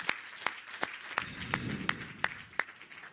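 Audience applauding a government minister at a meeting with property practitioners, heard as a slow, regular series of distinct, fairly faint hand claps over a soft murmur of room noise.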